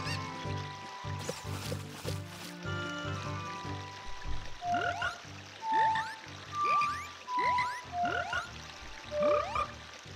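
Underwater frogs in The Legend of Zelda: Ocarina of Time give a string of about six chirpy, bubbling croaks in the latter half, evenly spaced and fairly loud, after a stretch of mixed game music and effects.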